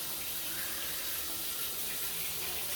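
Water from an LED shower head pours in a steady, even hiss, close and constant throughout, with no voices over it.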